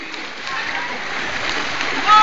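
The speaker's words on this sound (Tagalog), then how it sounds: "Sobra lakas ng tubig." Strong floodwater rushes loudly and steadily as a continuous close roar, with a voice briefly heard over it.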